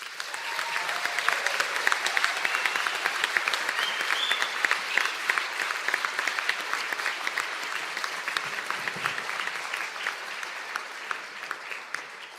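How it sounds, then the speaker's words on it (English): Sustained, dense applause from a large audience honours Masters of Science graduates in Data Science and in Computing and Cybersecurity at a Donegal university conferring ceremony, steady and full for the whole stretch with no talk. "Could I ask all the graduates for the Masters of Science in Data Science and in Computing and Cybersecurity to please stand for a round of applause"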